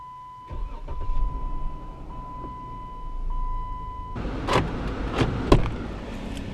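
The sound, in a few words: 2015 Jeep Wrangler Sahara engine straining while accelerating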